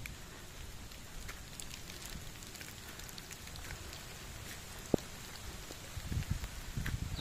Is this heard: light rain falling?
yes